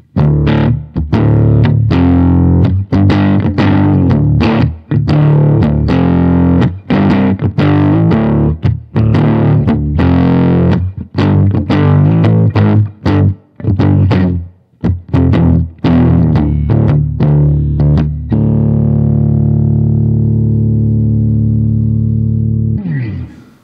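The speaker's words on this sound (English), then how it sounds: "really almost use it as a distortion type pedal" Distorted electric guitar through a modified Boss GE-7 equalizer pedal with boosted EQ plays loud chugging chords and riffs with sharp stops, ending on a sustained ringing chord that fades.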